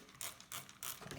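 A plastic spray bottle nozzle is twisted in three quick ratcheting clicks, close and fairly quiet, while seeding flax microgreens.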